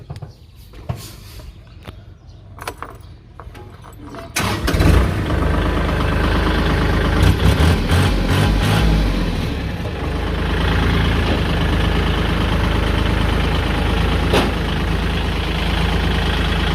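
A used Kubota L4018 tractor's diesel engine cranks and catches after a few quiet seconds, then settles into a loud, steady rumbling idle close by.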